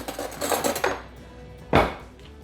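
A metal knife clatters and scrapes against a hard surface in a short burst of clinks, followed by a single sharper knock, close by with no talking.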